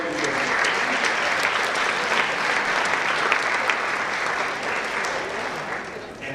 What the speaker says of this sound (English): could you give them a round of applause for the very beginning?